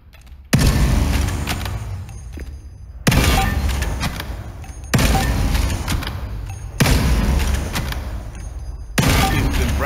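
Rapid gunfire from weapons in the tactical shooter game Spectre Divide, heard as loud bursts of shots in repeated volleys separated by brief pauses, with no talking over them.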